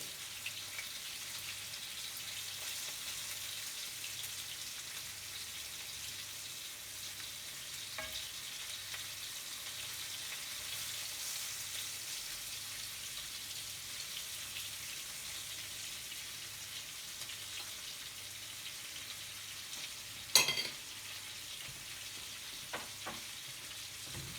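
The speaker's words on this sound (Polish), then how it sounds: "żeby się dobrze usmażył, a nie przypalił" Breaded turmeric and paprika chicken frying in a pan, a steady hiss and sizzle of hot oil running throughout with a faint low hum beneath, plus a sudden brief clatter near the end.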